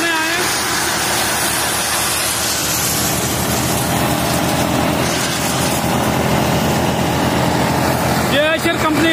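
Two tractors, a Swaraj 855 and a 333, run together on a farm, a loud, steady engine drone that fills the whole stretch with continuous mechanical noise.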